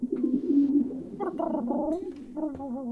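Pigeons coo in the video game The Occupation, giving a low throaty warbling call followed by several rising and falling coos, close and clear with no talking.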